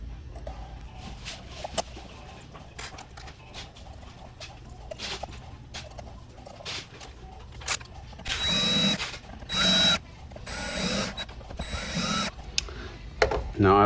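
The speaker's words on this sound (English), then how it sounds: "Now I like to get them almost all the way with the electric drill" An electric drill drives the mounting screws of a guitar's T-bender bridge in several short bursts of a few seconds each, close and fairly loud, with quiet handling noises between them.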